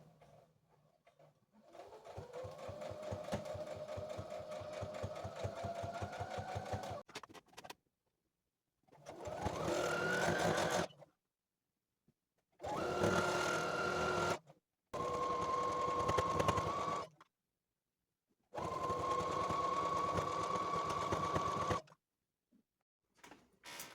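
A sewing machine stitches fabric in five separate bursts, the first one long and the rest shorter, each a steady mechanical hum with a rhythmic needle clatter and a quiet pause between runs. Nobody speaks.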